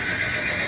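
A mare being readied for a wedding procession lets out a loud, close whinny that fills the whole brief moment, with no voices over it.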